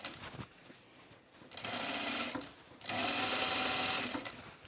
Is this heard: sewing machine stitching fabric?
yes